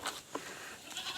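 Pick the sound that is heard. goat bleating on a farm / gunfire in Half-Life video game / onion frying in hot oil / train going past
goat bleating on a farm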